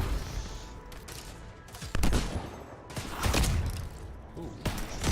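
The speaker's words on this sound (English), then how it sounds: "so who's shooting me now? Would you guys please stop shooting me?" Gunfire in the video game Anthem comes as scattered bursts of shots and thumps mixed with game effects, some louder hits standing out against a busy background.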